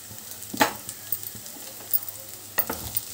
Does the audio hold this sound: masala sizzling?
yes